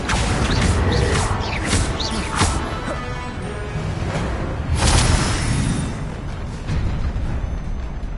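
An Accio summoning charm is cast in Hogwarts Legacy amid loud game combat, with a string of sharp whooshing hits and crashes early, a forceful burst midway, and rumbling effects throughout.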